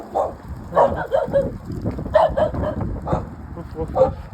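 Several dogs at a dog breeding farm bark and yip in short, uneven bursts nearby, with some whimpering mixed in.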